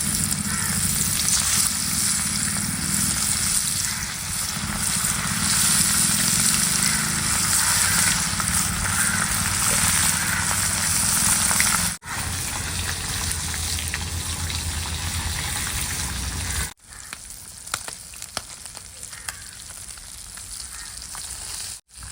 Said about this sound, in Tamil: பொறிச்சிடலாம் ஓகே எண்ணெய் நல்லா காஞ்சிட்டு இருக்கு